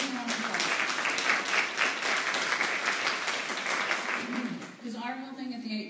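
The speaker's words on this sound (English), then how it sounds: "please give me a round of applause" An indoor audience at an Alzheimer's awareness event applauds with dense, steady clapping for several seconds, fading toward the end as a voice begins speaking.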